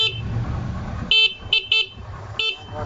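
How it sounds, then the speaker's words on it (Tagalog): Passing horn on a Barako 175 motorcycle, with a low engine idle under it. The horn gives four short, loud, bright toots at uneven intervals. "Oh, passing horn."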